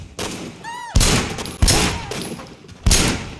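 Gunfire in the video game Sleeping Dogs: three loud, sharp shots spaced about a second apart, each with a ringing tail, plus a short whistling game effect before the first.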